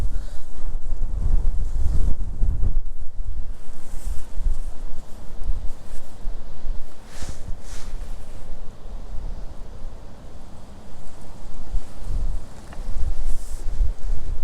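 Strong gusts of wind buffeting a microphone on a canal bank during winter fishing, loud roaring rumbles that swell and ease throughout, with no voices.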